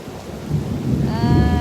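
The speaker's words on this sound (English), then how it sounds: "It really is raining hard." Heavy rain pours steadily over the Intracoastal Waterway during a storm, with a loud, continuous roar and low thunder rumbling underneath. Near the end a thin tonal whine rises above the downpour.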